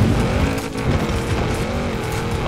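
A Porsche Macan races in Forza Horizon 4, its engine holding a loud, steady drone with faint tire squeal mixed in and no voices over it.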